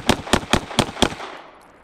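Five sharp gunshots crack in quick, fairly even succession during a live-fire Blake drill, each loud and close, with a short echoing tail fading after the last shot.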